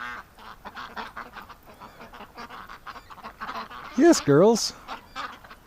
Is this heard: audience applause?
no